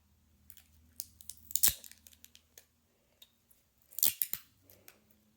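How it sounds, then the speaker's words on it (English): Tape being handled and pressed onto woven paper strips in a craft project, heard as quiet, close crackles and sharp snipping clicks in two scattered bursts, without talk. "And let's tape it again."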